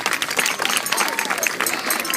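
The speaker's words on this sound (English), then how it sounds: "Students, please join me and give your parents a big round of applause for their efforts." Graduating high school students applaud their parents at a ceremony, a dense, steady wash of clapping from a large crowd that holds at an even level throughout.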